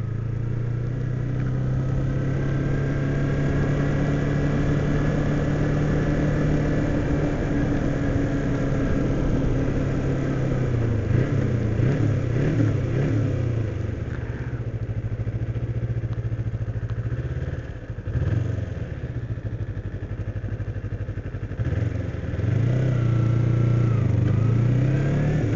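A 2007 Kawasaki Ninja 250 motorcycle engine drones continuously while riding, holding a steady mid-pitched hum with wind rush and shifting revs as it slows and picks back up.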